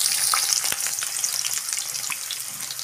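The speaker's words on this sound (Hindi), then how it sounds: "हमारा तेल गर्म हो चुका है, हमारा हाई फ्लेम है, अब हम इसमें अपनी प्याज ऐड कर देंगे।" Sliced onions fry in hot oil over a high flame, a steady close hiss of sizzling with occasional crackles and a brief sharp pop, continuous without any voices.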